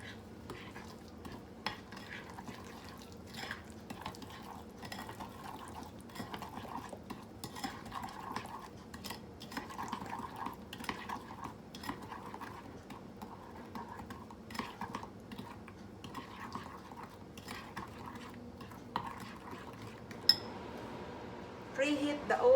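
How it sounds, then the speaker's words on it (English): Candied yam sauce mixed with a tablespoon of vanilla extract, a spoon scraping and clinking steadily against a bowl in a busy, continuous rhythm, fairly close and moderately loud. "Mix it."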